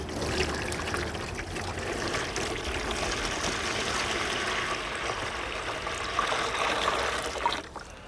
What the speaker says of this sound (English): the easiest way to water zucchinis that you're growing in containers is